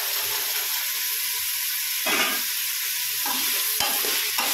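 Green peas sizzle steadily in a hot pan for matar pulao while a spoon stirs them in a few scraping strokes, close up, with no talk over the frying.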